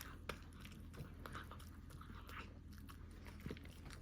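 Someone eats at a dinner table where meat and sundae are being served, soft close chewing and biting with small crunchy clicks repeating steadily through the quiet room.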